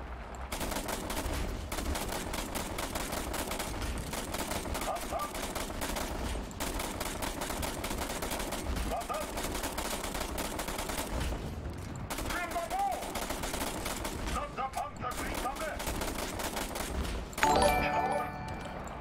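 Sustained rapid aircraft gunfire from a War Thunder air battle rattles almost continuously for about seventeen seconds, broken only by brief pauses, with a louder burst or impact near the end and a voice talking faintly underneath.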